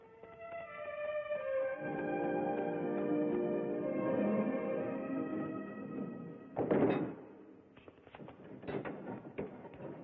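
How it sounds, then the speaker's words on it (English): Heavy doors being closed with a thud in an old palace or fortress film scene: a sustained musical drone leads to a single loud low thud near the end, then faint knocking and settling. "You and you, close the doors."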